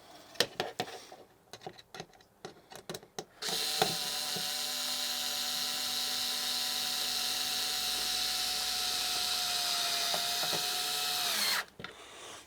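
Power driver sinking a screw into wood: a few sharp clicks and knocks, then a steady, close motor whine held for about eight seconds before it stops abruptly.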